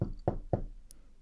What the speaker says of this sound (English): there was another knock at the door.